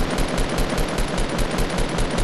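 Rapid gunshots in the Fortnite video game fire in a quick, evenly spaced string, loud and close, with no talk over them.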